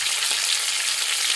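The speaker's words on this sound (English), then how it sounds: "Place the hamburger patties on a frying pan coated with oil." Hamburger patties sizzle in an oil-coated frying pan on an induction cooktop, a steady close crackling hiss throughout the short moment, ending with a sharp clatter.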